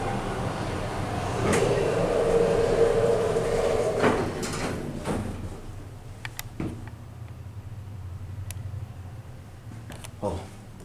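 A Schindler 500A traction lobby elevator at the Hilton Americas gives a steady low hum during the ride, with a broader whooshing swell early on and a few faint clicks and knocks toward the end.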